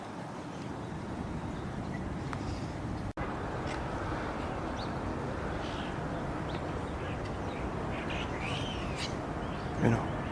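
Birds in Brooklyn's Green-Wood Cemetery give faint, scattered calls and chirps from a distance, set against a steady wash of outdoor background noise.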